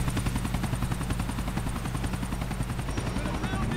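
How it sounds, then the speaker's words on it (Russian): Helicopter rotor in Grand Theft Auto IV chopping loudly and continuously, a steady rapid thumping that fills the scene, with game-like ambience around it. "Вертолет улетает, проследите, куда он движется."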